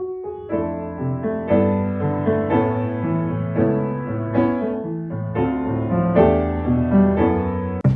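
Piano plays a slow progression of full chords over a wide-spaced, moving bass line, clear and close with no voices.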